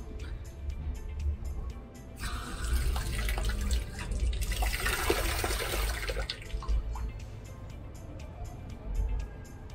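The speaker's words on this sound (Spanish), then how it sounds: "Vamos a ver si tiene agua esta." Water runs from a tap or fountain outdoors in Bursa, Turkey, a steady splashing stream that swells noticeably in the middle of the clip before easing off, heard alone without talk.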